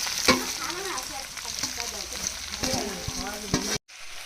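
Jackfruit being sautéed in a pan for a chicken and jackfruit curry gives a close, steady sizzle punctuated by spatula scrapes and clinks, with faint indistinct voices underneath, ending abruptly.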